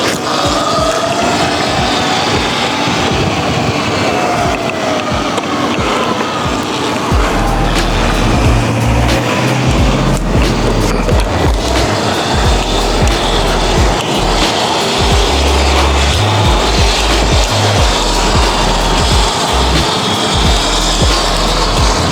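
A 72-volt EGO Power+ electric mini bike is ridden at speed outdoors, giving a loud, continuous whirring motor with wind rush and rumbling bumps throughout, and no voices.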